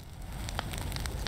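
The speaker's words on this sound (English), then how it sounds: "we'll light it on fire then" Fire crackles close up as an object catches light in the game Kill It With Fire, a steady rushing roar broken by small sharp pops.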